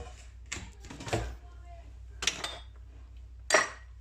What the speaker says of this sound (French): je prends un verre et donc là, je tasse dans le fond du moule, hein, pour que ça soit bien compact